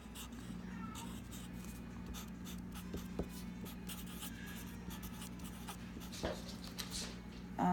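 Marker nib rubbing on paper in small circular strokes, a soft, close, continuous scratchy scrubbing with brief pauses and a faint low room hum beneath.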